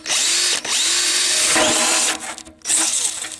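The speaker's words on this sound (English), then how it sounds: "Get one of these, a nice circular cutter drill. This is for metal, and cut yourself your hole." A power drill with a metal-cutting hole saw grinds loudly through a metal tank, its whine dipping briefly under load, then cutting steadily again.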